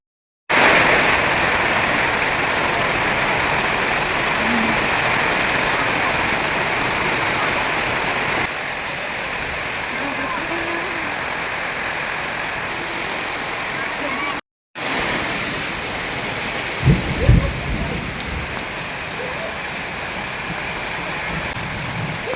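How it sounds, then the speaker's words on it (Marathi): Heavy rain pours down onto a courtyard where water is pooling, a loud unbroken rushing hiss lasting throughout, with a brief pause and a few nearby knocks and splashes toward the end. "बघा किती पाऊस पडत आहे, दारामध्ये सगळं पाणीच पाणी झालेलं आहे"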